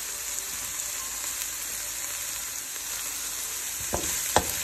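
Broccoli stir-frying in a pan, a soft steady hiss of frying with a couple of sharper utensil clacks toward the end.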